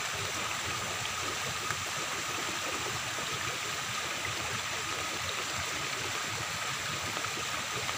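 Steady rush of flowing river water at a fishing spot, a continuous broadband wash with no breaks, close and even throughout with no talking.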